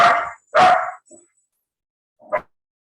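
A dog barks loudly and close, two sharp barks in quick succession followed by a pause and one shorter, softer bark, with no talking.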